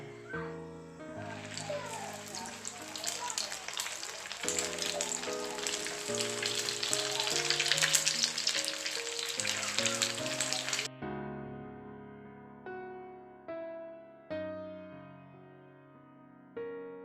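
Snacks fry in hot oil with a steady, hissing sizzle beneath background music; the sizzle cuts off about two-thirds through, leaving only the music.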